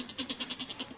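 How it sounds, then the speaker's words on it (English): A restless goat in a cellar gives one short, quavering bleat, a rapid pulsing vibrato heard faint and alone. "That's the goat. He's getting restless down in the cellar."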